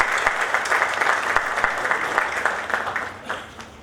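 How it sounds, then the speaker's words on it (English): Audience applause for event sponsors at an MSME entrepreneurs' conference, a dense, steady wash of many hands clapping that carries on throughout and thins out near the end. "A big applause for all of these sponsors."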